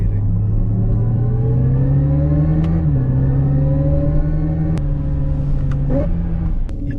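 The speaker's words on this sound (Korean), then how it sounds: "이거는 미래의 자동차 소리래" Synthetic engine sound from a Hyundai Ioniq 5 N's Active Sound Plus system, heard inside the car as a loud, steady, futuristic engine-like drone whose pitch climbs, dips briefly and climbs again, with a few sharp clicks and no talking.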